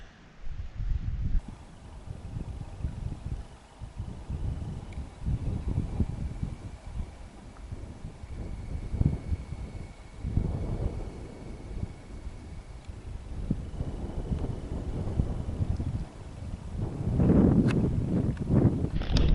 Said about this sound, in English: The wind has picked up a crazy amount